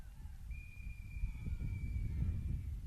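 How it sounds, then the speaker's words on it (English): A referee's whistle sounds at a polo match, a single long steady blast that is moderately loud and carries over the low rumble of the crowd and wind. "There's a whistle, and the clock stops with 1:45."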